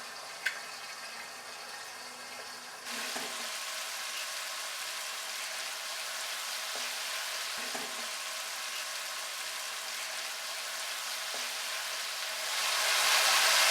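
Chopped tomatoes fry in a pan with ginger and garlic for a ground beef karahi, giving a steady, hissing sizzle that jumps up after a few seconds, with a few light clicks and a rush at the end.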